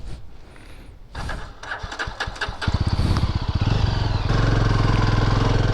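A motorcycle stuck in soft beach sand at Kappil Beach, Varkala, Kerala, starts with a few sputtering pops, then revs up into a loud, close engine drone. The revving climbs and holds at a steady roar, with no talking.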